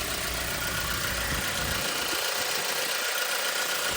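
A Hyundai Porter 2 Gold double-cab truck with a 2.5 diesel engine and manual gearbox idles under the open hood, a steady, even mechanical drone with a slight knock, close and continuous, with no talking.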